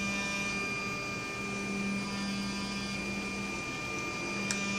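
Pair of Mercedes SL600 throttle bodies on a bench test, a steady electric motor hum with faint tonal whine, constant and close with no voices.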